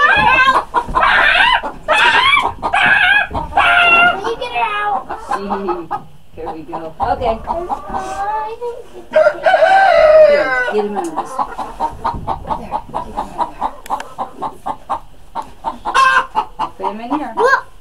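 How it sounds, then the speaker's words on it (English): Hens cluck and fuss in a backyard coop while eggs are gathered from under a sitting bird, the clucks mixed in with frequent adult and child chatter close by. "Aw, that chicken was cute."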